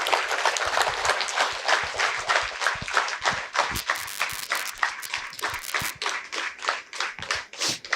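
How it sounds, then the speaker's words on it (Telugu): A seated audience claps loudly and steadily for a woman being welcomed onto a stage at a Telugu youth talk, the dense, continuous clapping filling the whole stretch with no voices over it. "గట్టిగా చప్పట్లు"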